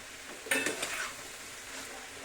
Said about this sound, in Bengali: চিকেনটা আমার ভাজা ভাজা হয়ে গেছে।